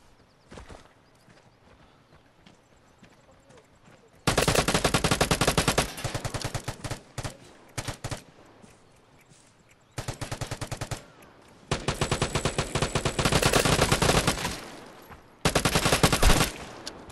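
Bursts of automatic gunfire in the multiplayer PvP shooter Vigor, loud rapid volleys separated by quieter gaps, with a few clip-clop footstep-like sounds between them.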